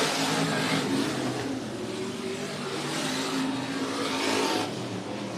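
Race cars roar around the Sunset Speedway Park oval in Banks, Oregon, a loud, dense engine drone that swells and fades as the cars pass.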